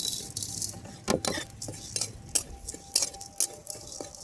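Whole spices being dry-roasted in a plain pan for homemade Hajmola, with soft frequent scraping and clinking of a spatula against the metal and a faint dry rustle, close and fairly quiet, with no talking.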